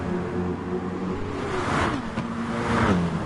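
A BMW M6 race car engine drones in a wet-weather racing game at Spa, revving and shifting with rising and falling pitch over several gear changes, close and steady with no voices.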